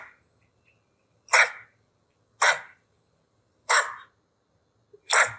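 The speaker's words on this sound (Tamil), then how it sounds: "the puppy is uffing" A puppy gives four short, breathy huffing barks spaced about a second apart, close and clear against a quiet background.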